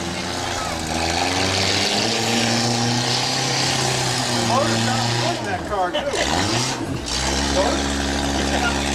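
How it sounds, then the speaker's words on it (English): A demolition derby car numbered 23X with a custom exhaust, at the 2012 Lorain County derby, throbs with a loud, steady engine drone that dips and surges in a few quick revs, while voices talk over it. "Sounds strong in that 23X. Got a custom exhaust on that thing."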